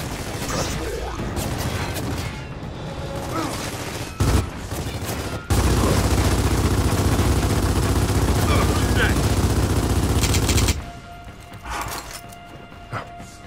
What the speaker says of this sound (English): I was just shooting at a wall